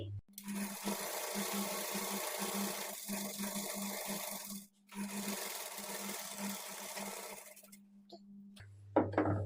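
Sewing machine stitching kinari lace onto a sleeve lining, a continuous close motor hum with rapid needle chatter, a brief pause midway, then stopping near the end.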